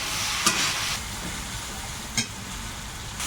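Shrimp and winter vegetable curry fries in a pan, giving a continuous bright sizzle with two short bursts of stirring scrapes, close and fairly loud, with no voices.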